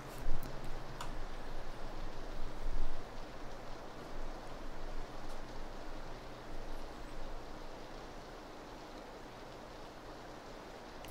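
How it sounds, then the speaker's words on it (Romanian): Rain falls in the PUBG video game as a continuous broadband hiss, fairly steady and moderately loud, with faint ticking and no voices. "Ce frumos plouă, chat."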